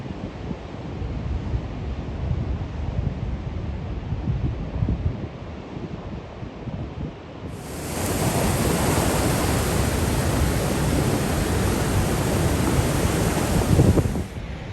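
Sea waves breaking on the rocky Tenerife coast in the Canary Islands, a broad wash of surf that swells louder and fuller halfway through, with wind buffeting the microphone.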